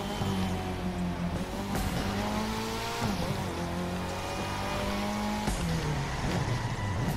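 Race car in The Crew 2 video game driving at high speed, a loud continuous engine whine climbing and dropping through repeated gear shifts, with brief tire squeals, no talk.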